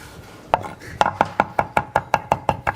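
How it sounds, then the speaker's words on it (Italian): A knife chops herbs rapidly on a board with a little salt, about ten sharp, evenly spaced taps in a steady rhythm, close and fairly loud, with no talking. "Per tritare bene le erbe, mettete un po' di sale."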